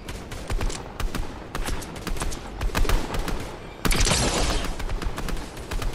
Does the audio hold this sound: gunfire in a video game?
yes